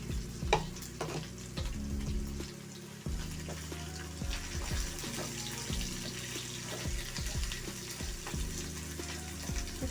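Food fries in a pan under a continuous moderate sizzle, with spatula scrapes and small clinks scattered throughout. A low hum sits underneath, and everything is heard close.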